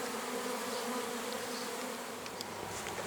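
Honey bees hum in a continuous, even buzz at an apiary, close and steady throughout with no voices.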